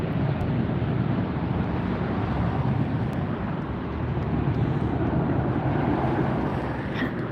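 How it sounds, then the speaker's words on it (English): Engines of a superjumbo airliner roar loudly and continuously at Los Angeles Airport, a dense, broad rumble with wind buffeting, heard close up with no voices. "How's that for the sound of engines for you?"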